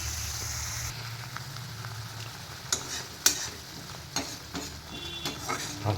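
Mustard, green chili and ginger paste stirred in a hot pan for potol posto: a steady close sizzle broken by spatula scrapes and small ticking pops.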